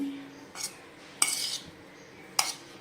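A spoon mixes soaked sabudana with salt in a bowl, giving a few distinct metallic clinks and scrapes at irregular intervals over soft background stirring, close and moderately quiet, without speech.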